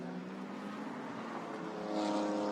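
A Mercedes GT race car entered by Craft Bamboo Racing at Suzuka, its engine a steady distant drone that grows slightly louder toward the end as it passes.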